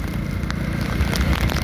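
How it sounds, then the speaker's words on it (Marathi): Heavy monsoon rain pours onto a mountain highway at Dabhole ghat on the Ratnagiri–Kolhapur road, a dense, steady hiss of drops with no pauses over a brief stretch. "एवढा पाऊस पडतोय"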